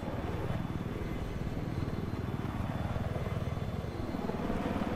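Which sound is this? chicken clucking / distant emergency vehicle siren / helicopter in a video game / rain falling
helicopter in a video game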